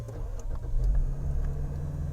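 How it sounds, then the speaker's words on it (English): A car's V6 engine starts and settles into a low idle rumble, with a brief swell of revving near the middle, close by and with no talk over it. "make sure I start the engine so I won't run out of battery."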